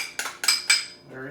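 Hatch chilies and artichokes are tipped into a dip in a kitchen, giving three quick metallic clinks of a utensil against a dish, close and fairly soft, followed by a faint scrape.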